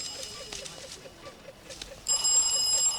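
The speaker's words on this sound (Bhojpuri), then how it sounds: "लागता भैया के फोन आइल" A telephone rings in a Bhojpuri film scene, a short repeating electronic ring pattern that grows louder and brighter toward the end, with no talk over it.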